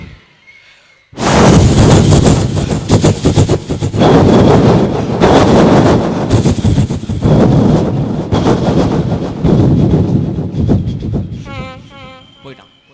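A voice imitates a heavy train rumbling over a flyover bridge, a loud sustained roar with rhythmic clattering, ending in a few short breathy sputters.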